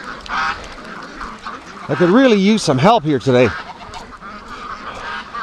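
Free-range ducks quack and honk in a loud burst of strained, wavering calls through the middle, with someone talking before and after over an outdoor background.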